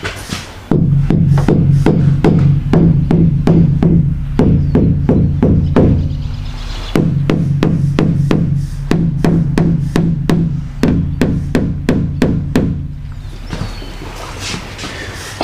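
Knuckles rap rapidly on the back wall of a truck cab, which still has its factory sound deadening, in two long bursts of sharp, close, hollow knocks with a brief pause between them.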